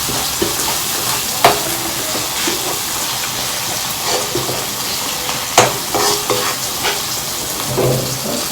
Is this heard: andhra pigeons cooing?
no